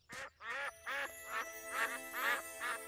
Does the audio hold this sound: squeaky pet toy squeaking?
no